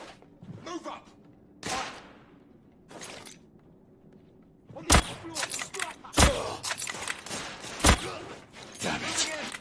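Sniper rounds and rifle fire crack through a battle against rebels in The Order: 1886, with sharp, loud shots arriving in clusters, especially in the second half, and separated by scuffling movement and thuds.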